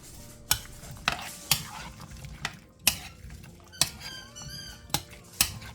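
A spoon stirs a lime-juice dip in a bowl, giving about ten sharp clinks and scrapes at a steady, brisk rhythm, close and fairly loud, with no talking.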